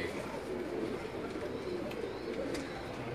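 Pigeons coo softly at a rural dera near Rawalpindi, a low burbling murmur held steadily and fairly faint, with distant noise and no clear talk.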